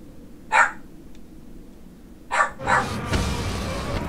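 A pet dog barks a few times at a distance, two or three short sharp yaps spaced apart, over a quiet room with game sounds rising at the end.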